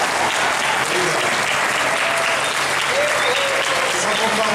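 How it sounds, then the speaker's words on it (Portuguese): A crowd claps steadily and evenly, a dense wash of applause that holds at full strength throughout without dying down. "Se quiser aplaudir outra vez."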